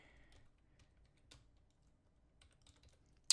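Keys on a computer keyboard being typed as a phone number is entered, a sparse, quiet run of light clicks and taps with short pauses between keystrokes, no voice, ending in one sharper louder click.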